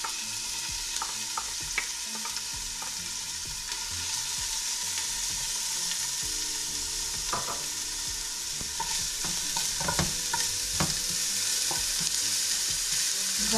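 Ginger strips stir-fried in hot oil in a pot on the stove, with a steady close sizzle and frying hiss and the scrape of stirring breaking through now and then, continuous throughout with no talking.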